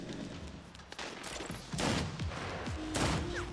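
Bursts of gunfire in the video game Saints Row (2022), rapid overlapping shots forming a loud, dense barrage amid a busy game soundscape.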